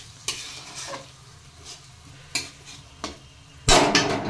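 A fried rice mixture simmers in a pan with added water under a steady low bubbling, while a spoon scrapes and clanks against the pan in a few sharp strokes, the last one loudest.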